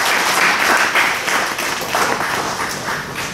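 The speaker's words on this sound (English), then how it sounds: "just give him a round of applause" A crowd applauds, a dense patter of many hands clapping steadily for a few seconds in a room.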